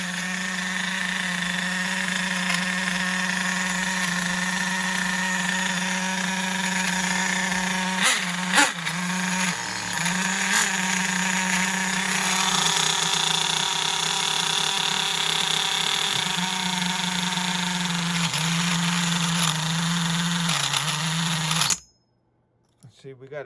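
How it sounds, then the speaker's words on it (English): Nitro engine of a Losi 8ight RTR RC truggy with a broken clutch spring, running steadily at a loud idle-to-mid drone with brief rev dips, close by, then cutting off abruptly near the end. "Thing has a broken clutch spring. See, the clutch is not that happy."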